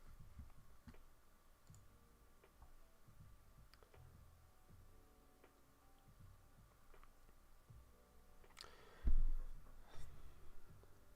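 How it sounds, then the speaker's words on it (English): Keys on a computer keyboard click in scattered, uneven bursts, faint and close, during a live trading session, with a louder thump and rustle near the end. "This typing is so tough"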